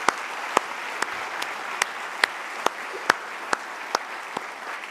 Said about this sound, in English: round of applause for everybody to help put this together